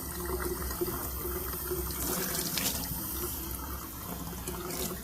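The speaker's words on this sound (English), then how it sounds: "Turn on warm water and adjust flow." Warm water runs steadily from a tap into a sink, a continuous close splashing rush with slight surges and no voices.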